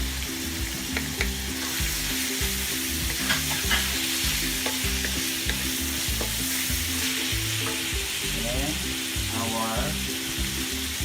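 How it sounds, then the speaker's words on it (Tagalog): Onions and garlic stirred and fried in a pan for party spaghetti make a steady close sizzle with intermittent spatula scrapes and ticks, set over a low rhythmic background hum. "Let's mix our onions and garlic to combine the ingredients."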